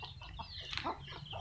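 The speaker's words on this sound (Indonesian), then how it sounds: "Ini ayam." Chickens cluck softly at a rural home among rice paddies, with several short, faint, scattered clucks over a low background hum.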